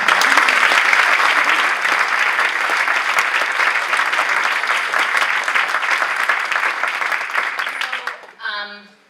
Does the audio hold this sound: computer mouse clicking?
no